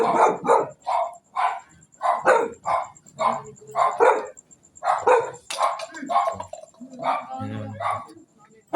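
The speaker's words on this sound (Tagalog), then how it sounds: "May guys, ang mga aso." Dogs bark at night near a cemetery in Bocaue, with sharp repeated yaps mixed in among people talking throughout.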